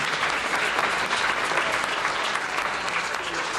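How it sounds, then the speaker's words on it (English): Audience applause for a moderator and panel at a business panel discussion on cannabis, a full, sustained roll of many hands clapping, even and continuous throughout. "Let's have a round of applause for our moderator and panel this morning"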